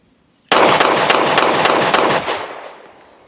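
A Glock Gen 2 Model 17 9mm pistol fires a rapid string of about half a dozen loud, sharp shots over two seconds, followed by a fading echo.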